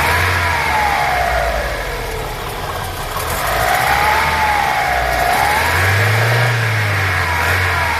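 An Opel Vectra 1600 cc engine, with water in its fuel instead of gasoline, idles loudly and unevenly close by, misfiring and smoking, its pitch wavering and surging as if sputtering.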